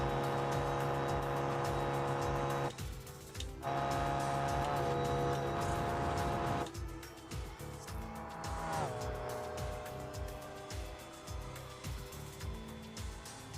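A car engine held at its top speed of 222 mph, a loud, steady, high-pitched drone with tyre squeal mixed in. The engine note dips and shifts twice before settling back into a constant roar.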